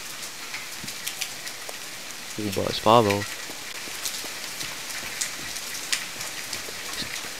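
Rain falling in the video game The Forest, a steady hiss of drops spread evenly throughout, with a short spoken remark rising over it midway.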